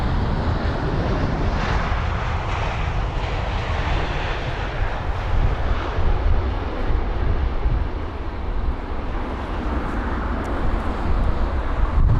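An Air Canada Boeing 777-300ER on landing approach at London Heathrow in windy conditions, its engines a steady, loud broadband roar with wind buffeting throughout, no voices.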